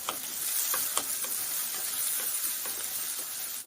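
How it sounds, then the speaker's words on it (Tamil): Shallots, garlic and curry leaves fry in hot oil in a pan, a steady close sizzle with a few soft stirring scrapes, no voices. "சின்ன வெங்காயம் பூண்டு ஒன்றா போட்டுக்கலாங்க, வதங்கட்டும்"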